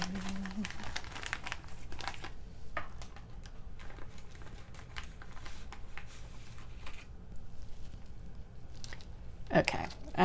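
Poly burlap is scrunched and crinkled by hand while forming a pumpkin wreath petal, giving close, irregular rustling bursts throughout, with a louder crinkle near the end.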